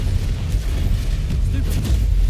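Bombarda explosion spell in Hogwarts Legacy, set in Ranrok's mines, giving deep rumbling booms and bursts over a low, heavy background, loud and close.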